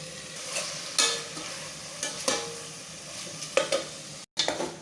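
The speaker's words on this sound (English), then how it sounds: "Then I'll mix everything together." Nigerian-style stir-fry spaghetti with soy sauce being stirred in a pan, a low frying sizzle broken by several sharp scrapes and clinks of the utensil against the pan.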